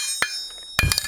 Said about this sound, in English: So just finishing off this taper using a 3-pound hammer.